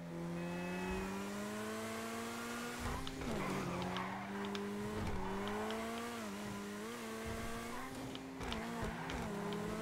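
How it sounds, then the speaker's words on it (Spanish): A Vysser Neo sports car engine revs and drones steadily in a video game, pitch rising and falling with gear changes, with occasional tire squeals and scrapes over continuous game audio. "Voy a callarme un rato para que escuchen el motor."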